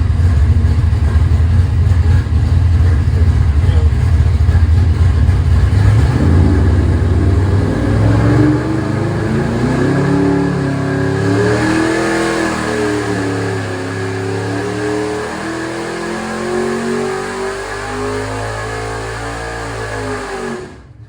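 A powerful car engine on a dyno runs loud and close, first holding a heavy low drone, then sweeping through several wavering rises and falls in revs before it drops off.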